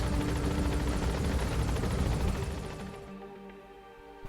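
Helicopter rotor chatter and engine whine from Metal Gear Solid V: The Phantom Pain as an extraction chopper arrives, loud and steady at first, then fading away over the final second or so.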